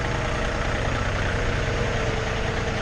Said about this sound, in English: we got the tractor warming up, and the zero turn's warming up